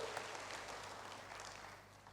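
A church congregation applauding, a faint, steady wash of distant clapping that fades slightly toward the end.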